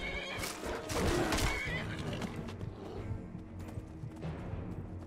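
A horse in the video game Skyrim gives a loud, shrill whinny that rises and trails off, followed by scuffling and thumps of movement, heard close with no talk over it.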